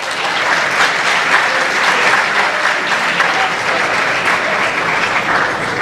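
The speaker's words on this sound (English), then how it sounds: "we can give him one more applause." Sustained audience applause at a dinner celebration, loud and dense, steady throughout with no breaks and no speech over it.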